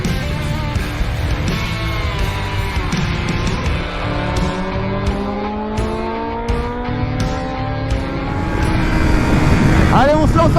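A 2021 BMW M1000RR superbike at full throttle on the Dijon-Prenois circuit, its loud high engine note climbing and dropping through the gears in long sweeps. The wind roars close the whole time, and a voice speaks over it.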